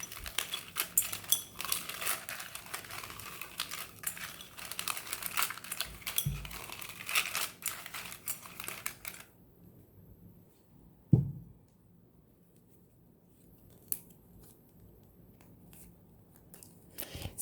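Tarot cards handled and shuffled at close range, with a steady papery rustle for about nine seconds, then near silence broken by one soft tap.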